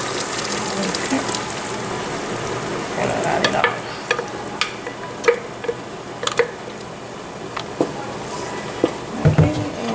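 Food with blended tomatoes sizzles steadily in a hot pan while a utensil scrapes and clicks against it in irregular strokes, close by.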